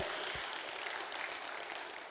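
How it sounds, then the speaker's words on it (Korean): A church congregation at a spiritual revival meeting applauds in worship, a broad wash of many hands clapping together, heard faint and distant as a dense, even roar. "우리 하나님께 박수로 영광 올리겠습니다."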